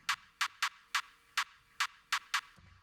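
Raw techno clap sample with its low end EQ'd out, eight bright, thin hand-clap hits in an uneven pattern over a faint hiss, quiet and dry.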